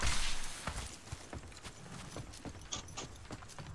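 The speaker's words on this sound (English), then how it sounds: "I hear footsteps." Footsteps in a multiplayer squad video game, a steady run of soft, clip-clop-like treads at moderate distance, with a louder burst at the start and scattered brighter clicks over faint background noise.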